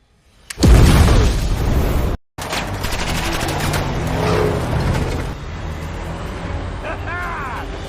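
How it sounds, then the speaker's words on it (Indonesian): A bomb blast set off by a detonator in an action film: a loud booming explosion erupts, cuts out briefly, then gives way to a sustained roar of rumbling debris and chaotic noise with fainter crackles near the end. "Tiff dengan tombol detonatornya dia menekan sehingga akhirnya timbul sebuah ledakan bom"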